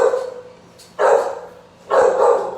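A dog barks two loud, close, drawn-out barks about a second apart, clear against a quiet background with no talk.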